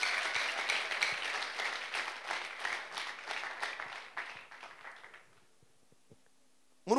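A church congregation applauds with dense, steady clapping that fades out after about five seconds, leaving near silence before a short loud burst at the very end.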